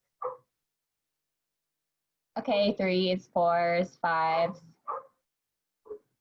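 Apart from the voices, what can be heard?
dogs barking at the mailman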